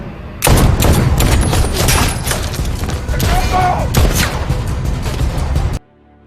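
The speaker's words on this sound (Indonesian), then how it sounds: "mereka semua tiba-tiba dibuat kaget ketika mendengar suara tembakan" Gunfire in a violent action film showdown with a mafia gang, a dense burst of loud shots and heavy thuds packed together over several seconds, with voices mixed in under the shooting.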